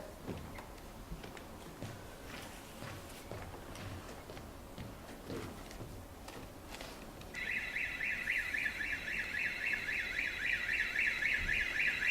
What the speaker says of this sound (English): He said we should check the burglar alarm's working.